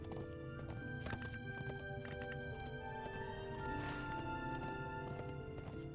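Horse neighing and hooves clip-clopping in a fantasy strategy video game, with a whinny over steady hoofbeats and game music running continuously throughout.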